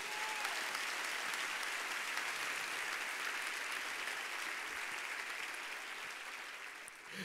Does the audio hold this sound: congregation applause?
yes